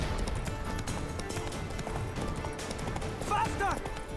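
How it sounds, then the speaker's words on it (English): A horse gallops under a rider in The Witcher 3, its hoofbeats a steady, rolling clip-clop beneath busy game noise, with a short whinny-like call near the end. "I'm on a horse. I can't control how fast it goes."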